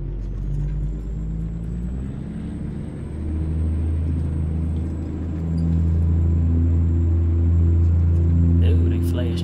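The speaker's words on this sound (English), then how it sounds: "I like the Jake Brake sound. I think that's stage two. It sounds so good." A truck's Jake Brake in American Truck Simulator gives a deep, steady engine-braking rumble that swells louder over several seconds, close and heavy, with a faint high whine above it.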